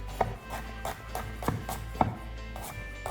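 Knife slicing ginger on a board, several distinct cuts spaced irregularly, close and fairly crisp, with no talking.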